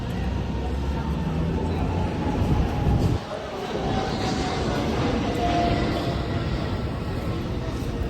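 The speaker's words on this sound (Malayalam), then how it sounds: "Finally we R at metro station." A metro train rumbles at an elevated city metro station, a steady low roar with a brief dip midway before the rolling noise resumes at similar loudness, and no voices are heard.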